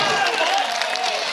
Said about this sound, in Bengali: ওর জন্য একটা জোরে হাততালি হয়ে যাক।